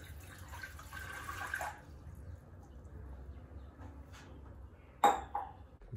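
A glass of water is poured into a frying pan in a home kitchen, a short splashy rush that stops after a couple of seconds. A quiet stretch follows, then a single sharp clink.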